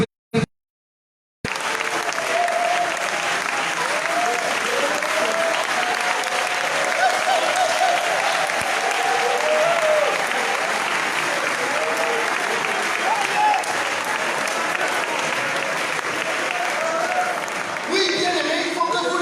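A church congregation applauds in a hall after those born again in 2010 are asked to stand: loud, sustained clapping and cheering fills nearly the whole stretch after a brief silent opening.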